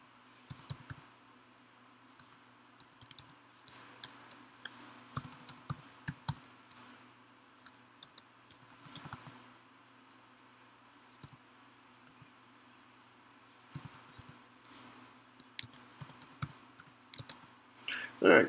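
Commands are typed on a computer keyboard while a Raspberry Pi is being set up. Quick, uneven clusters of key clicks run close and fairly quiet over a low steady hum.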